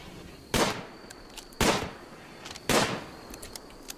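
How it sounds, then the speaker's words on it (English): Three sharp, loud gunshots in a RimWorld battle against bugs, evenly spaced about a second apart, each a bright broadband crack with a short decaying tail over quiet game ambience, with faint clicks between them. "Yeah, oh, gunshot."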